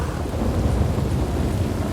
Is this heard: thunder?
yes